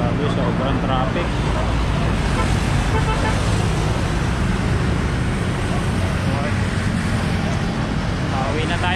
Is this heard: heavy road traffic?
yes